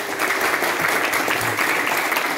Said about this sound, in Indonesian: Favorit yang kelompok 1 tepuk tangan.